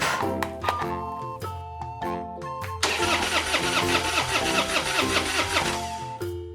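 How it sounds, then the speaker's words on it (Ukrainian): A cartoonish car engine cranks and sputters over and over without catching, a broken-down family car in a Peppa Pig cartoon, with bright music playing throughout. "Автомобіль тата свина не заводиться."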